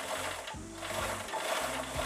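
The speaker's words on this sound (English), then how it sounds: "I'm just going to stitch this little hole closed with an edge stitch on my sewing machine." A sewing machine runs in short bursts, edge-stitching the opening of a fabric rice heat pack closed, its steady mechanical whir close and alone with brief pauses between runs.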